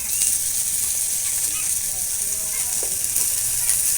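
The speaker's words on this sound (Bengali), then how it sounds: "পেঁয়াজটাও একটু ভেজে নেব।" Chopped onions and sliced dried red chillies sizzle steadily in hot oil in a pan, a bright continuous crackling hiss with faint stirring scrapes.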